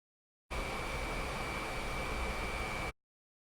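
A vacuum cleaner's broadband whooshing hum plays back at a steady level with a faint high whine, starting abruptly and cutting off cleanly after a couple of seconds.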